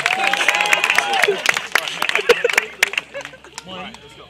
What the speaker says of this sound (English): Can we get a clap? Can we get a clap?